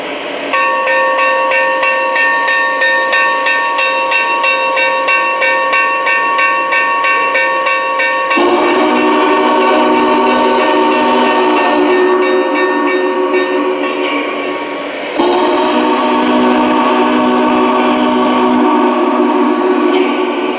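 A Lionel Vision Line Union Pacific Challenger model locomotive sounds its multi-chime steam whistle in three long sustained blasts, close and loud, with the bell ringing along, and no one talking.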